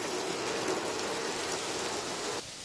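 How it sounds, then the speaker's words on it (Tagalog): Rain pouring steadily onto rice fields in Ilocos Norte, a dense even hiss that drops in level abruptly near the end. "Pero biyaya naman ang ulan para sa mga magsasaka sa palayan."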